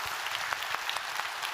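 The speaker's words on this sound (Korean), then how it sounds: "잘하시다라고 박수 보내드리시길 바랍니다" A church congregation claps during a Sunday worship service, a dense, fairly faint patter of many hands continuing without a break.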